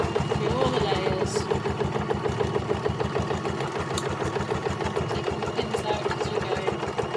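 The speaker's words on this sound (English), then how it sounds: "sew a straight line through all the layers" A sewing machine stitches a straight seam through several fabric layers of a reversible carry bag, a fast steady mechanical chatter that runs throughout while a person talks over it.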